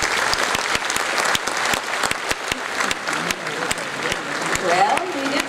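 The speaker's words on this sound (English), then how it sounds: "Give him a big round of applause." Lively applause from a concert audience welcoming a Navy band xylophonist, dense and steady with crisp individual claps up front and a voice speaking over it near the end.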